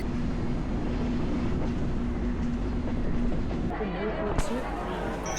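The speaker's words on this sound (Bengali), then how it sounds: "জাস্ট একবার চিন্তা করুন যে ট্রেনটা কত স্পিডে ছুটে চলেছে" A train runs at speed as it arrives at Jhikargachha rail station, making a loud, continuous rumble and rattle of carriages that shifts in tone partway through, while a voice talks over it.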